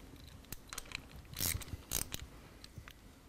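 Sprocket bolts on a Harley Davidson Twin Cam engine being snugged with a hand tool, a series of close, sharp metallic ratchet clicks and scrapes, irregular with a couple of louder bursts, no talking.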